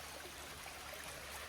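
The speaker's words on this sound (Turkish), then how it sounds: "Bu bizim evdeki derelerden bir tanesi." A small creek on a property in Puerto Rico flows steadily nearby, a continuous broadband rush of trickling water with no other sounds.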